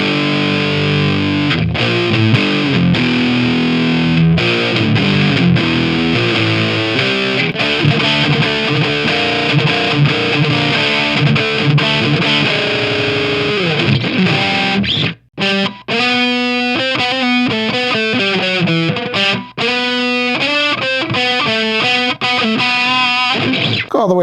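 A Donner DST-550 super strat electric guitar played through heavy distortion, sustained loud chords and riffs ringing continuously, then turning into choppy, stop-start picked phrases in the second half.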